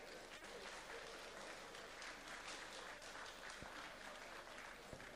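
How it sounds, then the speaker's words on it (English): Audience applause after a lecture on revitalizing the Nigerian economy, a faint, distant, even patter of clapping with a couple of isolated thumps. "Another round of applause for Mrs. Sonyade Okoli, FCA."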